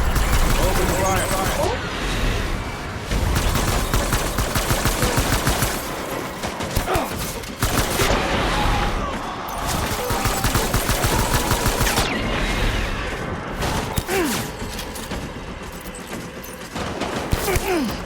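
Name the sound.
gunfire in video game Death Stranding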